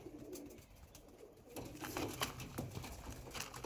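Young Mangalagiri and Lalsira patta pigeons coo softly in a loft, with faint low murmurs and light rustling against a quiet background.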